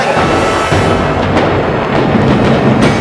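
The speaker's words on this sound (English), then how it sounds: "That was a nice explosion." A loud, sustained blast of rumbling noise from a film-set pyrotechnic explosion, roaring and echoing for several seconds with crackling debris.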